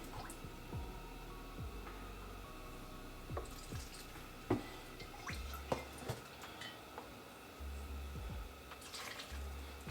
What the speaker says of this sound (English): So I have some fish stock here. And I'm just gonna put that in.